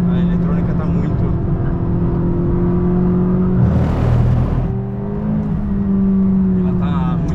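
McLaren 570S twin-turbo sports car accelerating hard on a track in heavy rain, its engine a steady loud drone with a brief surge of rushing noise midway, and a voice talking over it throughout.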